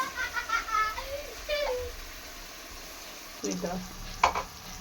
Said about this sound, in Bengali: মশলাটা এই যে সুন্দর করে কষিয়ে নেওয়া হচ্ছে।